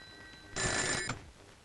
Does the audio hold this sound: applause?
no